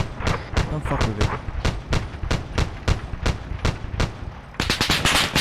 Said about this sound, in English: They're firing! They're firing!